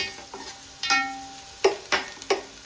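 Onions tossed into a hot pan for a country chicken curry, a few short scraping stirs and light sizzling bursts, close and fairly quiet with no talk.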